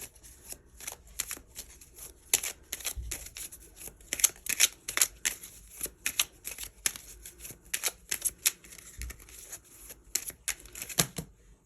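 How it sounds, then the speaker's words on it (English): Tarot cards being shuffled and pulled by hand, a close series of crisp riffling bursts and soft slaps in irregular clusters with brief pauses between them, no talking. "let's pull you one final card to see what good luck you have coming towards you"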